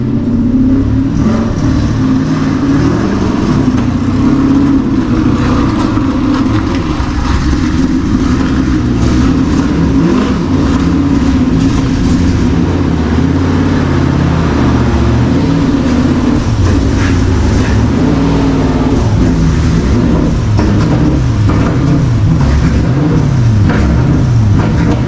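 A Lexus SC400 drift car's engine idles loud and steady with a slightly uneven, misfiring rumble, running alone without talk.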